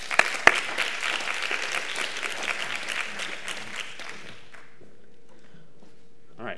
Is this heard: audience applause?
yes